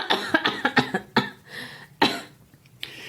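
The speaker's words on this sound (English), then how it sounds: "How long have you had that cough?" A sick man in a damp wine cellar thick with niter coughs hard in a rapid series of about six harsh bursts, then after a pause a couple more isolated coughs, close and loud.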